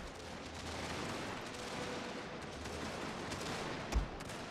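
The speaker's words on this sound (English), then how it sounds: "I'm gonna fire the mortar into the back right here." Mortar and gunfire in a war strategy game rumble as a dense, distant-sounding wash of crackling shots and low thuds, with one sharper boom near the end.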